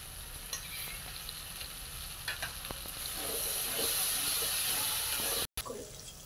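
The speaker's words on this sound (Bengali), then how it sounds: "আর মশলাটা ভাজা হয়ে গেছে, তেল ছেড়ে দিয়েছে।" A spice masala paste sizzles in oil in a pan, a steady hiss with a few soft clicks and stirring scrapes, swelling a little louder toward the end before a brief drop-out.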